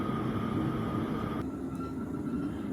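Inside Class 150 diesel unit 150.002 on the Sheffield to Huddersfield line, a steady rumbling cabin drone carries a sustained whine, and a brief shift in tone marks a change partway through, with no voices.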